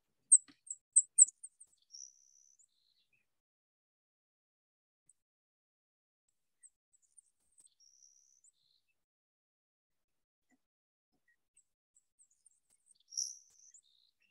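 A Savannah sparrow sings thin, high, insect-like buzzes of several pitches, a quick series of short notes at the start and another brief burst near the end, faint and isolated against silence.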